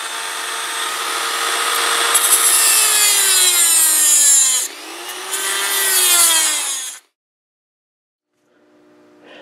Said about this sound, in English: So get your Dremel up to speed and start doing work.